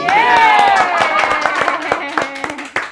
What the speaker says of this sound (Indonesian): tepuk tangan untuk NTMC Polri